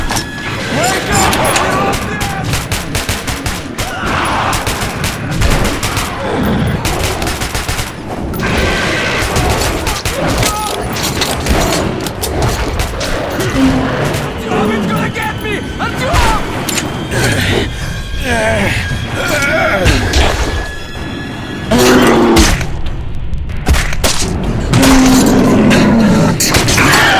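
Dense gunfire and explosive booms from the Metro 2033 Redux video game, loud and continuous throughout, mixed with shouting voices and clattering mechanical noise.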